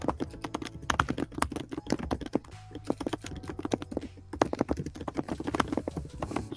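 Rapid, close typing on a computer keyboard during an accounting study session, with irregular bursts of clicking keystrokes, a short lull midway, then steady tapping resuming.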